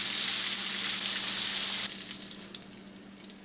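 Drum fish fillets fry in a pan right after being flipped, giving a loud bright sizzle that drops off suddenly, then settles into softer crackling with scattered pops.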